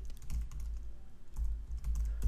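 Quick, close keystrokes clatter on a computer keyboard while a filename is typed into a terminal text editor, with irregular bursts of taps and short pauses between them.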